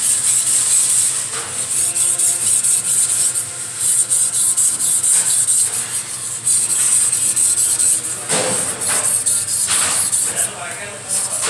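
A knife blade drawn steadily across a sharpening surface, producing loud, close, continuous scraping and rasping strokes with brief pauses between passes.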